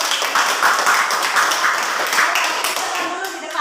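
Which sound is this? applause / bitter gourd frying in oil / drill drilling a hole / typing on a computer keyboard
applause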